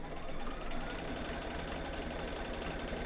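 A sewing machine stitches fabric for a quilt block in a steady, continuous mechanical whir with a fast rhythmic chatter, close and constant, with no voices.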